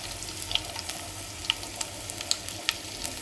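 Crushed garlic, about five or six cloves, frying in a pan for an onion and egg curry: steady soft sizzle with a few sharp crackles and pops, close and without speech.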